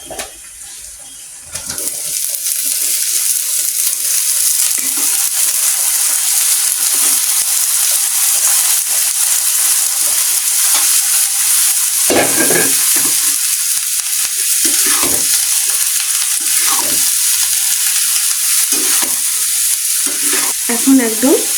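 Cauliflower stalks and potatoes stir-fry in oil in a pan, giving a loud, steady sizzle, with occasional scraping knocks as the vegetables are stirred.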